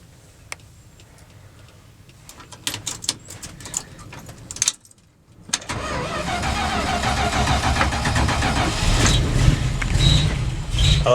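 A 1972 Dodge D200 truck cold starts on a 40-degree morning at 6,035 feet elevation, with a few clicks and key jingles before a short pause, then the engine catches and settles into a loud, steady rumbling idle.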